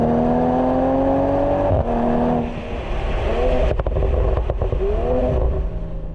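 A 2020 Toyota Supra engine pulls hard on a wet track and climbs in pitch, shifts gear, then surges again, loud and close with no talking.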